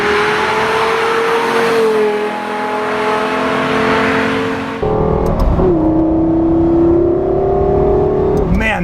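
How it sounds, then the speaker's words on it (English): A Lexus LFA supercar roars close by, its engine note climbing and holding through shifts, dropping briefly before surging again into a loud, sustained high-pitched wail. "especially, that sound is coming out of a Lexus."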